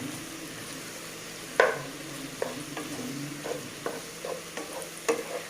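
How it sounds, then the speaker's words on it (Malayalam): Tomatoes being stirred into sautéed onions in a pan for chicken mappas, with a steady low sizzle beneath a string of sharp spoon scrapes and clacks, one louder knock standing out, close and with no talking. "ഇനി നമുക്കിതിലേക്ക് തക്കാളി ചേർത്ത് കൊടുക്കാം. നന്നായിട്ടൊന്ന് മിക്സ് ചെയ്ത് കൊടുക്കാം."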